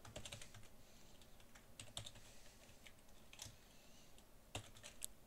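Keys clatter on a computer keyboard in irregular bursts of close, quiet clicks with short pauses between, with no voice over them.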